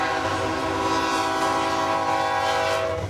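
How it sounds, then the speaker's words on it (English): A passing train sounds a sustained, loud horn with steady stacked tones throughout, a constant rail rumble underneath, close by and without any talk. "To me, the whistles of the train,"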